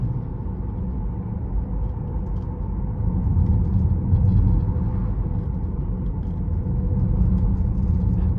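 A 2022 Tesla Model X Plaid rolls over a torn-up road, its cabin filled with a steady low road rumble and tire roar that swells slightly midway, with no one talking.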